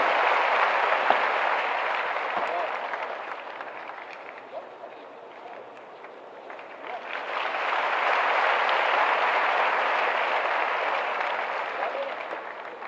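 Crowd applause at a ceremony handing appointment letters to newly recruited police officers, a broad sustained wash of many clapping hands that dips midway and then swells back up.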